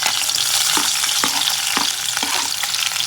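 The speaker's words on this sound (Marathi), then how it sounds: "इथं तेल तापलं आहे तर याच्यामध्ये मी टाकते ही मिरची आणि कांदा" Chopped green chilli and onion hit hot oil in a pan, giving a loud, steady sizzle and crackle with occasional stirring scrapes, no voices.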